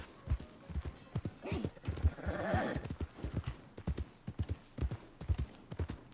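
Steady clip-clop of horse hooves walking through a video game world, a rhythmic run of hoof beats at close range with a brief whinny-like swell partway through and faint talk underneath.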